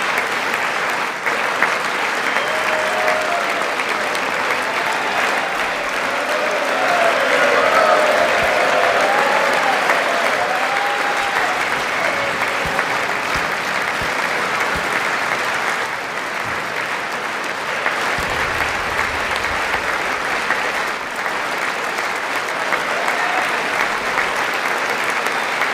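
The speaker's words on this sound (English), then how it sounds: "We're still clapping, huh?" A large audience at the State of the Union address applauds steadily and loudly for about 25 seconds, sustained clapping with a brief swell in the middle and no pauses.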